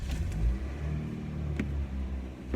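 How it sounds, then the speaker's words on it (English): A car engine cranking and catching, then settling into a steady low idle rumble close by with a couple of brief clicks, heard in a morning car vlog. "I start the engine on camera because there's some engine enthusiasts that might be watching."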